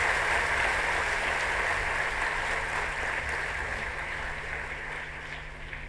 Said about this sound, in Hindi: एक बार आप सब जोरदार तालियों से उनका अभिनंदन करें